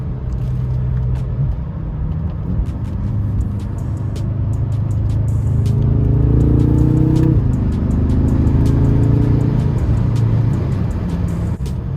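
BMW F10 M5 V8 fitted with Project Gamma intakes, a loud close rumbling engine that rises in a rev and settles back, with a steady deep drone throughout and no talking.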